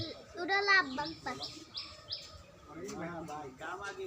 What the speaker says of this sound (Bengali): মানে বাজরিগার পাখি এগুলো তো বাজরিগার পাখি